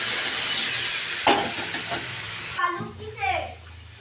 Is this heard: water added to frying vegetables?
yes